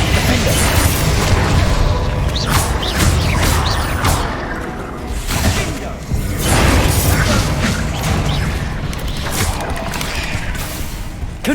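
Repeated Bombarda spell explosions from Hogwarts Legacy, loud booms and crashing blasts mixed with whooshing impacts in continuous combat with no pauses.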